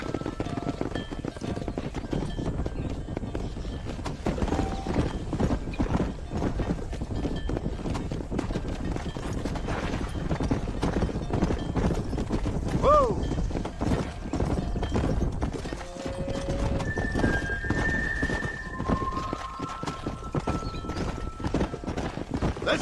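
Horse hooves clip-clop steadily and continuously while riding in the Red Dead Redemption video game, a close, even gallop rhythm that runs for the whole stretch, with brief snorts or whinnies near the end.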